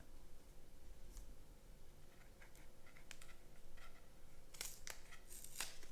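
Crinkly tearing and rustling as a new tarot card deck is unwrapped, a few sharp crackles and rips close by over a quiet background hum.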